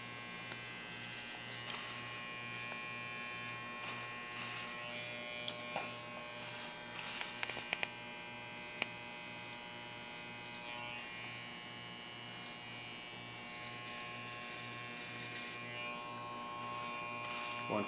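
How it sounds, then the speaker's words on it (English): Electric hair clipper buzzing steadily while cutting a faded wave brush cut, a constant close-up mains-like hum with small clicks and brief touches against the hair, running continuously throughout. "Reverse the clipper."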